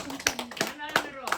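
A church congregation at a Korean worship service gives a short burst of clapping in praise, four or five sharp claps in an uneven rhythm with voices mixed in, fairly quiet overall.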